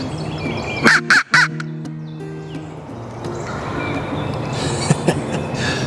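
A few loud wild turkey gobbles burst out near the start, a quick rattling series, then fainter calls return later over steady outdoor background noise.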